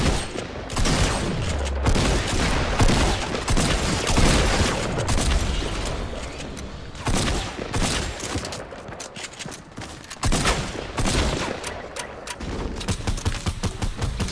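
Near-continuous gunfire fills a Fortnite Battle Royale match on Xbox One, with loud, rapid bursts and overlapping shots and booms that barely let up.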